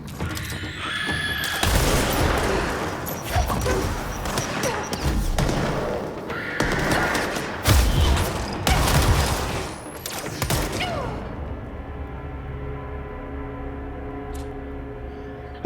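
Enemy grenade launcher fire in the game Control, with a dense run of rapid thumping blasts and crashing impacts for about ten seconds, then the noise cuts to a low humming tail.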